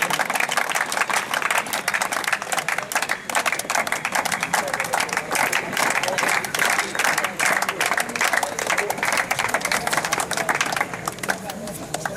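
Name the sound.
applause for first-year students at college party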